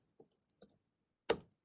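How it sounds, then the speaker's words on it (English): Someone types on a computer keyboard, a handful of light, scattered key clicks followed by one louder, sharper keystroke, close and quiet with no talking. "The rest will be me typing."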